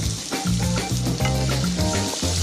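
Chopped onion frying in a knob of butter in a pan, a steady close sizzle and crackle with occasional stirring clatter, loud and continuous throughout.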